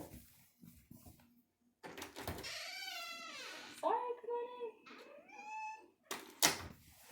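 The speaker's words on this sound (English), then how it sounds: "I forgot about my cat outside." A domestic cat meows outside, with several drawn-out, rising and falling cries. A person speaks briefly between them, and a soft knock or door-like thump comes near the end.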